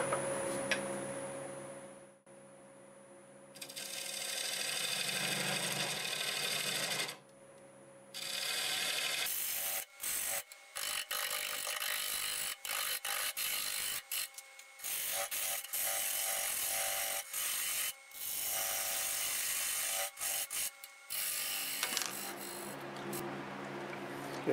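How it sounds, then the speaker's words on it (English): Half-inch bowl gouge cutting a tenon on wood spinning on a lathe: a steady whirring hum broken by rapid scraping, ticking cuts in short bursts, loud and close, continuing for most of the span with brief pauses. "I'll switch to a 1/2" bowl gouge to do that."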